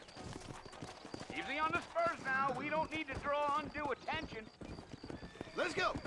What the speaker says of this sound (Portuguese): Play no X, que monta no cavalo.